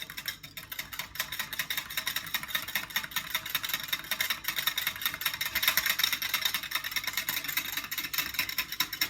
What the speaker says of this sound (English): I'm gonna take a whisk and whisk it in really well.